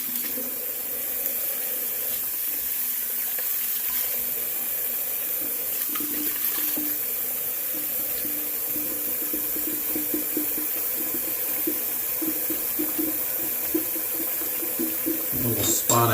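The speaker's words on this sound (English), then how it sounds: "Go ahead and do a cold water rinse." Cold tap water runs into a sink for a rinse during wet shaving, a steady close hiss of flowing water lasting throughout, with brief splashes and clatter toward the end.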